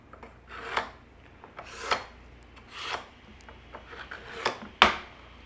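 A knife drawn through a Cook Light sharpener in a home kitchen, about six separate rasping strokes spaced roughly a second apart, close and fairly quiet, with a sharper final pull.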